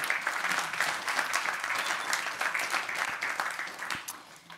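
Steady audience applause at a conference, dense clapping that holds for several seconds and tapers slightly toward the end, with no talk over it.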